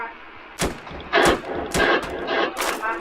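Gunfire in a Roblox bodycam-style shooter: several sharp, loud shots in separate bursts, each sounding close, with faint game noise in between.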